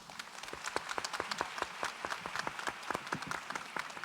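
A crowd applauds with a warm patter of clapping hands that holds steady for a few seconds.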